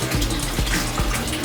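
Water pours steadily from a hose into a 75-gallon aquarium holding African cichlids, a continuous close gushing and splashing with faint periodic gurgles.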